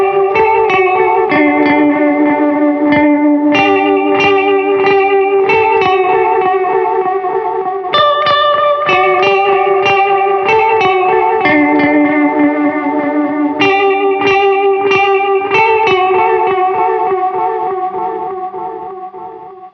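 Single electric guitar notes and chiming chord fragments ring through a Caroline Kilobyte delay pedal set long, repeats lingering and smearing into a shimmering, effect-heavy wash, loud and continuous, with no voices.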